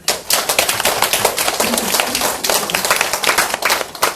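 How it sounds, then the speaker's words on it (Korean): A church congregation claps together during a sermon, dense and continuous applause of many hands, fairly close and filling the whole moment without talk. "우리 그렇게 수고하신 여러분들이 박수 한번."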